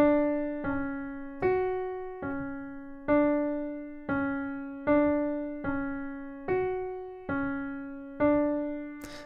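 Piano arpeggio from a song, with a steady pattern of struck notes repeating in even groups, clear and close and without any voice.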